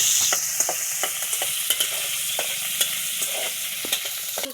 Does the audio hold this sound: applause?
no